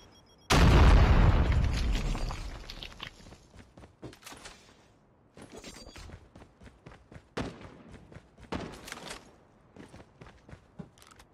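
A loud bomb blast in COD Mobile booms up suddenly and rumbles away over a couple of seconds, followed by scattered game footsteps, clicks and small pops.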